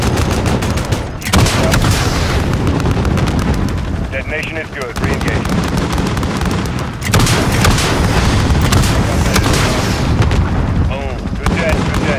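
Loud, dense gunfire and explosive booms fill a Call of Duty Modern Warfare battle during a missile strike on armor, a continuous barrage with heavy blasts near one and seven seconds and voices shouting over it.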